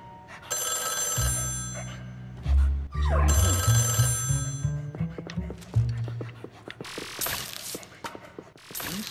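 Repeated bursts of a ringing telephone bell in the Nintendo Switch game Luigi's Mansion 3 sound over busy game music and effects, and someone talks in between.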